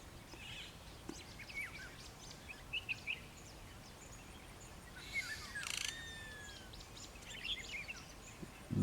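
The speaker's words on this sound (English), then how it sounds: "That's the call of the lizard buzzard." A lizard buzzard calls in the early morning among other birds, including a grey-headed bushshrike and a flappet lark, giving scattered faint whistles and chirps over quiet ambient bush background.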